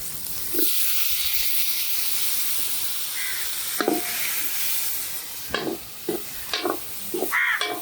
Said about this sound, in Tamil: வெங்காயம் கொஞ்சம் பொன்னிறமாக வந்துட்டு இனி நாங்கள் வந்து தக்காளி பழத்தை போடுவோம்